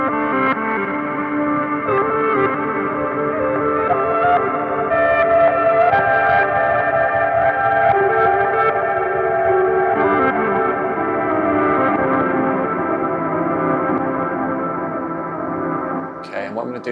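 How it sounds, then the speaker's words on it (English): An electric guitar rings out with sustained, layered notes washed in reverb, a steady continuous wash of sound with a brief noisy burst at the end. "I'm going to add a little bit of reverb on that."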